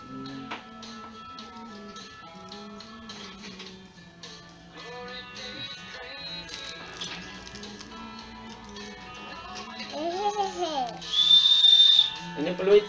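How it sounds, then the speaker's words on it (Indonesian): Small toy whistle blown in short tweets, with a higher shrill burst near the end, mixed with faint ticking, a child's babble and an adult voice in a cluttered indoor setting. "Ini peluit kecil."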